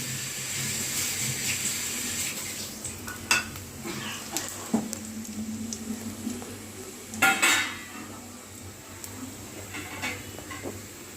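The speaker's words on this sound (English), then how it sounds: "In the same oil, I am going to add cumin seeds and urad dal." Cumin seeds and urad dal fry in hot oil left from frying peanuts for poha upma, giving a steady close sizzle with occasional sharp clinks of a spoon against the pan.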